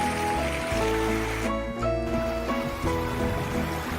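Water rushing out of a broken pipe near a damaged gas line, a loud, steady, close roar of flowing water with no pauses.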